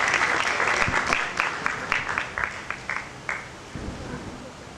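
Audience at a poetry gathering applauds to welcome Dr. Rajesh Mohan, a burst of clapping that thins into scattered, distinct claps and fades out, with a few faint voices.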